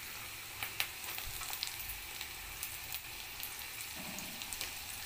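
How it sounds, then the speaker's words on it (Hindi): Green chilies are dropped into onions frying in a pan: a steady, soft sizzle with small irregular pops and crackles throughout, no voices. "प्याज को हल्का फ्राई कर लेने के बाद हम लोग हरी मिर्च को डालना है।"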